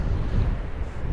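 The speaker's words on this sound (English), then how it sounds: "Still blowing, I think around 22 knots at least, maybe 24." Strong wind of about 22 to 24 knots buffets a sailboat at night in winter on the way to Læsø island, a dense close roar of wind noise with rushing water beneath, no speech.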